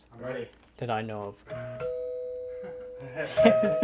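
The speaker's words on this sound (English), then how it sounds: "So apparently the doorbell still works in here too." An old doorbell in an abandoned mansion rings with a sustained, clear electric tone, then rings again, while people talk before and during it.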